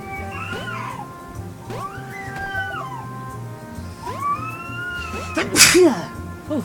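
A single sharp sneeze bursts out near the end, loud and close, following several rising cat-like vocal calls over a low, steady game soundtrack.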